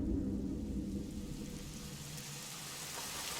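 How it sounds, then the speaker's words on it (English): Rain pours steadily in the video game Elden Ring Nightreign, a dense, even hiss with a low rumbling wash underneath, loud and continuous without any voices. "Oh, it's rain."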